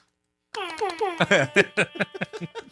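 A voice mimics an air horn with a long tonal blast followed by a rapid series of short, punchy honking bursts, loud and close.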